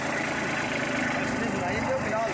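A tractor idles in a sugarcane field with a steady, low mechanical hum, while people talk over it.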